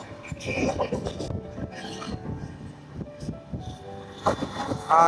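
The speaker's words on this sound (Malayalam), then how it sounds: "ട്രെയിൻ ഇപ്പൊ നല്ല സ്പീഡ് എടുത്തു" A train runs at speed, its steady rumble and rhythmic rattling of wheels over track sounding close and continuous, with a brief faint voice underneath.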